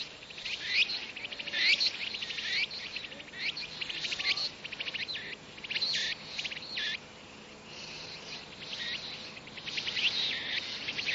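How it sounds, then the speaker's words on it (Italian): A cicada chirps in bursts in a cartoon, shrill pulsing buzzes repeating over about eleven seconds against a quiet background. "Ah, ma è proprio una cicala."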